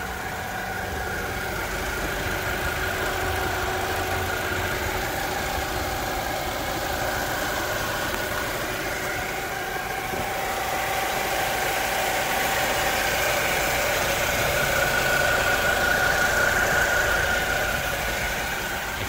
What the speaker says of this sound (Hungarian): ezt a motort, látjátok, tök szépen jár, 2 liter